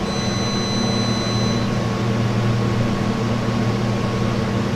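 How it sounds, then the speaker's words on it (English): Freezer compressor running steadily and close, a constant low hum with a broadband mechanical whir and faint high whine, unchanging throughout with no talk. "So here's the compressor. So you can hear."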